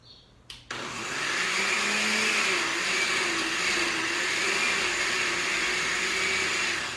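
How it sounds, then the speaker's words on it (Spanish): A blender whirs steadily as it purees salt, pepper and other ingredients for beef tinga, starting abruptly after a couple of clicks and running loud and even, close by, with no talk over it. "Sal, pimienta y licua. And blend this."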